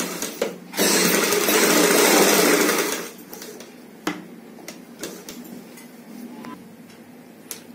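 A sewing machine stitching a collar runs in one steady whirring burst of about two seconds, followed by quieter handling clicks and taps nearby.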